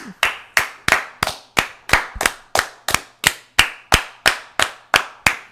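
Two people clap their hands together in an even rhythm, about fifteen sharp, close claps spaced roughly evenly, ending at the same moment.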